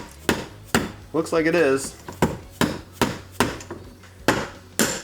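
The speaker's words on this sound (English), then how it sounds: "I'm just gonna start hammering this and see if it comes out." Hammer blows drive the shafts of a Toyota W56 manual transmission out of its mid plate, a steady series of sharp, loud metallic strikes at roughly half-second intervals, with someone speaking briefly between hits.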